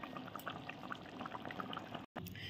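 Chicken curry gravy simmers in a pot with a soft, continuous bubbling and gurgling burble at low level, briefly cutting out near the end, with no talking.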